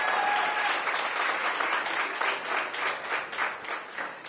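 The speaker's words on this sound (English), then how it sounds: "let's give them a big round of applause" An audience at an awards ceremony applauds steadily, dense clapping filling the room, swelling slightly in waves toward the end.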